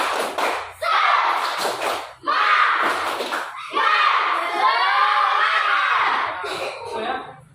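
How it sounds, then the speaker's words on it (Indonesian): Schoolchildren in a classroom shout the 'tepuk semangat' clapping chant together, loud voiced bursts broken by brief pauses, with scattered claps and thumps mixed into the group chanting. "Tepuk semangat."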